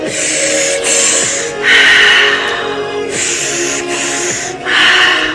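Forceful breathwork breaths, belly and chest filling and then exhaling, come in several loud, close bursts over a soft sustained musical tone.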